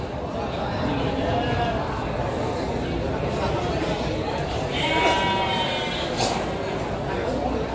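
Sheep bleat amid the steady hubbub of a livestock market in Tanjungsari, Sumedang, several wavering calls rising over a constant background of crowd noise and activity.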